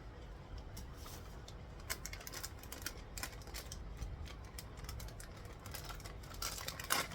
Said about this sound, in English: So I'll just quickly grab my scissors